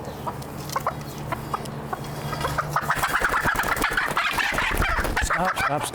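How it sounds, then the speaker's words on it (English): Frizzle chickens clucking at a petting farm, soft clucks and bird calls close by, with people talking and background noise growing louder toward the end. "These are called Frizzle Chickens."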